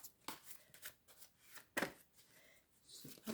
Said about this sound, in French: Je vais plutôt étaler les cartes